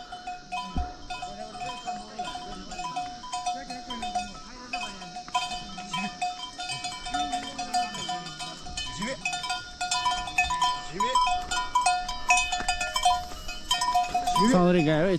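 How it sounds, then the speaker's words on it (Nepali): A herd of chauri cattle, a yak hybrid, moves nearby with bells ringing in a continuous, uneven jangle, joined by occasional bleating calls and a person speaking over the bells. "चौरी गाई हो चौरी गाई"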